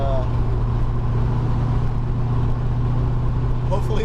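A 1976 Dodge Dart Sport with a 318 V8 and 4-speed cruises along the road, its low engine drone steady and constant beneath someone talking throughout.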